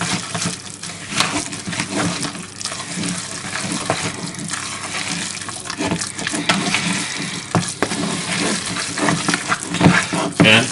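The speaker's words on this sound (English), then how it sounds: "Now only have to mix it around." Meat loaf mixture is squished and stirred in a bowl, giving wet squelching and sloshing sounds in an irregular rhythm, close and fairly loud.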